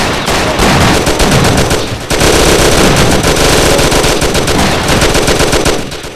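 Loud, sustained automatic gunfire from a Mafia: The City of Lost Heaven shootout rattles in dense rapid bursts, with a brief gap before the firing resumes and carries on to the end.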